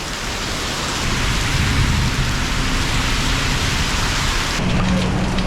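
Heavy rain pours down in a constant, loud, dense wash of drops with a low rumbling undertone throughout.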